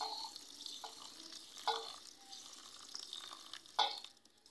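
Sesame seeds are gently shaken in water inside a fine sieve, producing quiet soft sloshing and trickling with a few small splashes.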